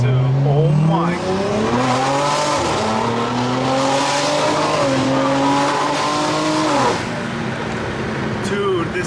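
A stage 2 tuned car accelerates hard, its engine note climbing loud and close in rising sweeps with a brief shift break, then easing off near the end while a voice exclaims over it.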